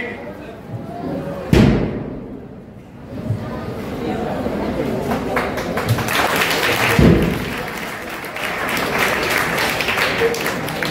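Applause from a school sports-day audience for students forming a mass drill pyramid: dense, continuous clapping under someone talking, with two sharp heavy thuds along the way.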